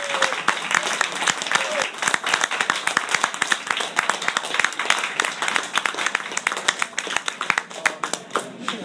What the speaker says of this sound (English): Can I get a round of applause for Mike?